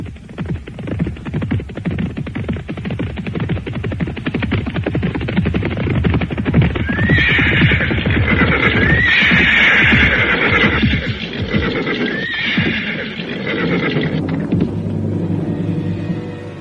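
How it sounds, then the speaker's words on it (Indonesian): Horses neigh and whinny in a shrill burst over a rumbling, crowded scene with heavy low-end noise, the calls swelling midway before fading back into the din. "Bajang Keling menyusul dengan membawa 2 ekor kuda yang mereka temukan"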